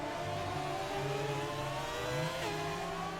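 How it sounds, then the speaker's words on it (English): Several V8 race car engines rev together in a steady, loud chorus during a series round at Abu Dhabi, layered engine tones rising and shifting throughout with no voices. "listen to the chorus of the V8s"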